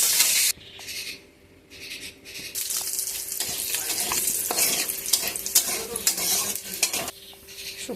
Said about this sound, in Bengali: শুকনো লঙ্কার ফোড়নটা ভেজে নেওয়ার পর মশলাটা দিয়ে দিচ্ছি